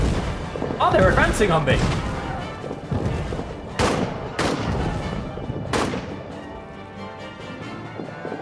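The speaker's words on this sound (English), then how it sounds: "Throw one of our grenades." In the trench warfare game All Quiet in the Trenches, a grenade goes off with a heavy boom, followed by sharp, widely spaced rifle shots and distant thuds, while someone talks over the action.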